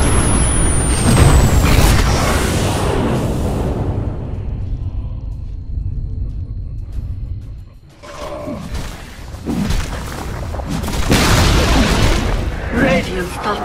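A tower collapses in a professional Dota 2 esports match, with heavy booming rumbles and crashing blasts that fade to a quiet stretch before swelling again, under voices.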